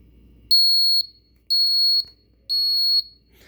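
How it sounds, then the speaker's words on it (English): An LG refrigerator's buzzer gives three identical shrill, piercing beeps, each about half a second long and evenly spaced, loud and clear over a quiet room with nothing else going on. "Beeped its horrible beep."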